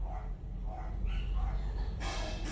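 Dogs bark several times in short bursts at moderate distance over a steady low rumble of background noise.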